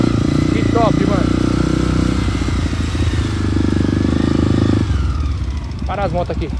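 Motorcycle engines idling and running at close range on a waterfall trail ride, a steady low throb that dips and shifts partway through, with people talking over the engines.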